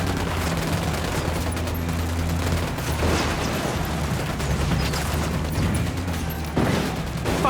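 A squad opens fire in Ghost Recon Wildlands, sustained loud gunfire with overlapping shots and bursts running continuously throughout, under a dense battle soundscape with no talk.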